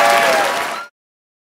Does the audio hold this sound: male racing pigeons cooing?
no